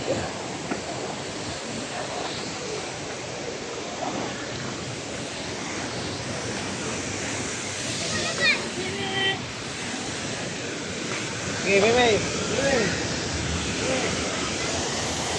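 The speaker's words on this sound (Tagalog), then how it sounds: "Ang lakas ng kabog ng falls." Ditumabo Mother Falls waterfall in San Luis, Aurora, pouring with a steady, dense roar of falling water, with faint voices briefly audible over it.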